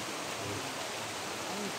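Heavy rain hisses steadily and densely, a continuous broadband wash with no pauses.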